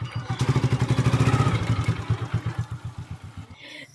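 A motorcycle engine putters in a rapid, even rhythm, loud and close at first, then steadily fading as the bike pulls away and leaves, with a faint voice at the end.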